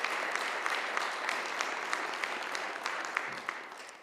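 Applause from a conference audience thanking the meeting's organizing staff, a steady wash of many hands clapping at moderate distance, sustained evenly throughout without speech.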